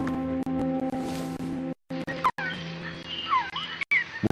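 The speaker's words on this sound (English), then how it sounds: "She went out into the jungle to record bird calls and stumbled upon this." Recorded call of the phoenix bird from Metal Gear Solid Peace Walker, a strange whistling, warbling cry with sliding tones over a humming tonal drone, broken by short gaps and clicks, heard close and alone.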